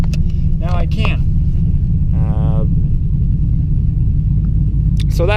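A cammed pushrod V8 in a stalled Chevrolet Silverado running close by, its deep, loud, steady rumble lasting throughout, with brief bits of speech on top.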